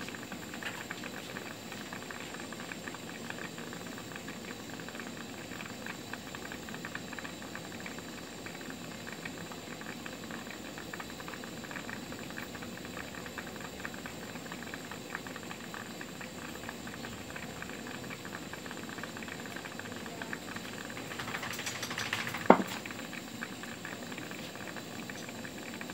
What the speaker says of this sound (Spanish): Esto no para de hervir.